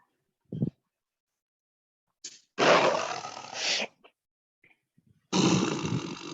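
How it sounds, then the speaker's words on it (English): Tiger roaring in a series of loud, rough bursts, a short grunt first, then two sustained roars separated by silence, heard alone with no talking. "roaring meaning the tiger is roaring for hungry or for food"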